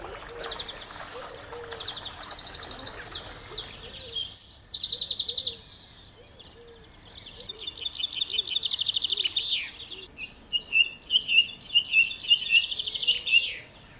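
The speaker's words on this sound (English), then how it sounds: "the sheer amount of bird song is just absolutely phenomenal" Birds sing in a wildlife garden with a wildflower meadow, giving bright overlapping chirps, trills and whistled phrases. The song is continuous and fairly close, with no talk.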